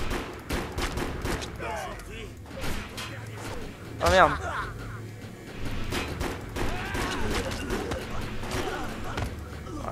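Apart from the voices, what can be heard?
gunfire from player's gun in video game Defiance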